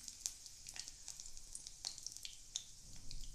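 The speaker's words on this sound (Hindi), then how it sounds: "हमारा तेल गर्म हो चुका है, हमने इसमें सबसे पहले खड़ा मसाला डालेंगे।" Whole spices hit hot oil for a hotel-style matar paneer masala, giving a faint, steady sizzle with scattered sharp crackles and pops, with no talking.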